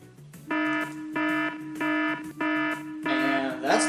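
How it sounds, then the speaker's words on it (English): A sound effect from the video game Yoshi's New Island: four or five loud, buzzy, evenly spaced tonal blasts, like a kazoo or alarm, ending in a harsher, noisier swell. "that's the sound of the dimension collapsing upon itself"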